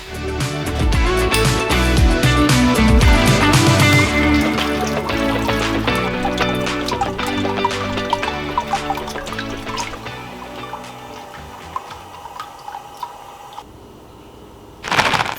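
Beer wort drips and trickles steadily as a grain bag is pulled out of the brew pot, a close, busy splashing with some clinks and rustles that slowly thins toward the end.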